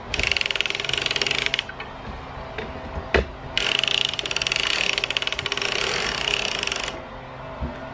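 A circular sock knitting machine cranked forward for leg rows gives a steady mechanical ratcheting clatter in a continuous run. Two brief pauses break it, with a sharp click between them, and no talk is heard.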